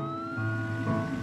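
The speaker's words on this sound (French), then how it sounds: "Elles laissent passer la voiture de police et l'ambulance." Cartoon police car and ambulance sirens wail together in steady, overlapping electronic tones. They are moderately loud and continuous for a moment, with no voices.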